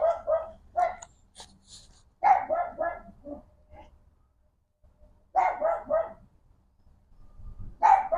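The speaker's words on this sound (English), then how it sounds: "Some dogs just be barking at nothing" A dog barks in short clustered bursts, several quick woofs at a time with pauses between, fairly close and fairly loud.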